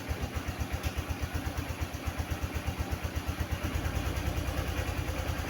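A Honda XRM fi dual sport motorcycle engine idles with a steady, rapid low thump, then the idle rises slightly and runs a bit faster and louder toward the end.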